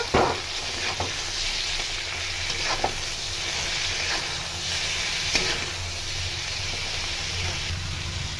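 Okra frying in a pan with salt, turmeric and chopped tomato, a steady close sizzle with occasional scraping stirs of a spatula throughout.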